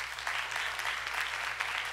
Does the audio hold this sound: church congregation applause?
yes